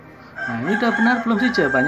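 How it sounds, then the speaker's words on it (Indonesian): A rooster crows from a neighbouring house, its long rising and falling calls sounding moderately loud behind a person asking a question in Indonesian. "Masuknya ini ada ayam berkokok ya."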